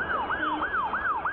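Emergency vehicle siren in traffic, wailing up and down in a rapid repeating sweep about four times in under a second and a half, loud and alone without talk.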